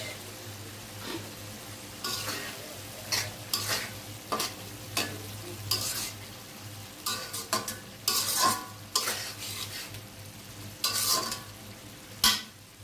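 Rohu fish curry with tomato sautéing in a pan over low gas, a steady soft sizzle broken by repeated scraping stirs at an irregular rhythm, close up with no talking.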